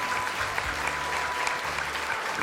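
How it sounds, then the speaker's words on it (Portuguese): Steady applause from an audience welcoming a guest specialist onto a Catholic TV evangelization program, a dense continuous wash of clapping with a low hum underneath and no speech over it. "Uma salva de palmas"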